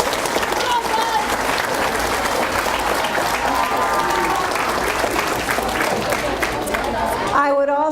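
A crowd at an elementary school 6th grade banquet claps loudly and continuously in thanks for teachers and staff, with voices chattering beneath before it fades out abruptly.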